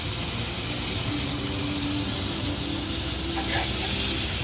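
Steak frying in a pan, a constant close hiss of sizzling with faint crackles and pops scattered through it.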